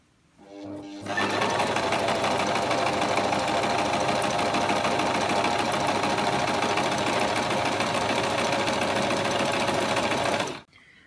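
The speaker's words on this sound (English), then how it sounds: "I'm going to be running a third stitch down the centre" A sewing machine with an open-toe foot sews a decorative stitch down the centre of a border, running steadily and loud for about ten seconds after a short start, then stopping abruptly.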